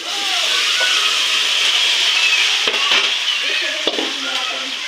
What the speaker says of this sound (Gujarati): ભજીયા નાખી દો હવે